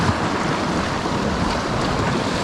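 A loud, continuous wash of sea swell against rocky coastal ledges, broadband and roaring, with wind buffeting the microphone and no voices.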